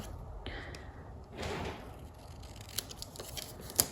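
Scissors trimming paper for a 12x12 Halloween scrapbook layout, a few quiet snips and paper rustles close by, ending in a sharper click, with a low room hum underneath.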